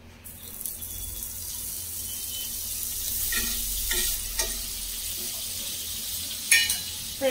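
Butter heating in a hot kadai gives a steady, moderate sizzling hiss throughout, with a few short stirring clatters and a sharper clink near the end. No one talks.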